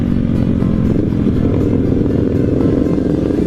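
A loud motorcycle engine with a noisy muffler runs steadily nearby, a constant low rumble with a faint mechanical clatter throughout.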